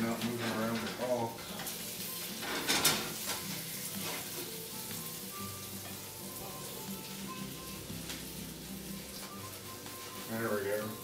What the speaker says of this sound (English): Just trying to get the butter down under the egg so when I do the flip, it'll be easy.